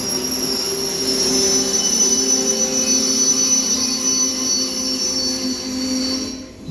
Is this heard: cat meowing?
no